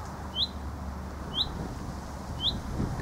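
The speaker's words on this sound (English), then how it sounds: "I don't know whether you can hear that bird." A small bird at an allotment gives three short, high chirps spaced about a second apart, faint over a steady low outdoor hum, with no talking.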